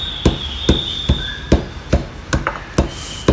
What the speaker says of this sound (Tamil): நம்ம சுக்கை கொஞ்சம் கொஞ்சமாக போட்டு இடிக்கல்லில் தட்டி எடுத்துக்கலாம்